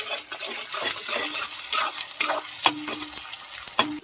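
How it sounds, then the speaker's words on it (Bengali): Tomato frying in a pan for an ol (elephant foot yam) chicken curry, after onions browned: steady close sizzle with scraping stir strokes and a few sharper clinks, no talk. "এবার টমেটোটা দিয়ে ভালো করে ভেজে নেব"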